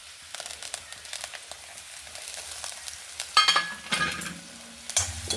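Finely chopped onions sizzle and roast in hot oil for a brinjal masala, with soft stirring and scraping sounds from a spoon against the pan.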